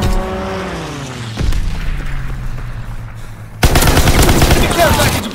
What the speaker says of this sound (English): Enemy strafing run inbound.